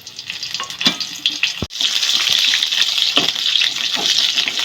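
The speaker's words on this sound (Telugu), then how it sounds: "నూనె గరం అయిన తర్వాత ఎర్రటి మిరపకాయలు నూనెలో వేసుకొని గోలించుకోవాలి." Red chilies fry in hot oil with a steady bright sizzle, stirred now and then with a few clinks and scrapes of the utensil against the pan.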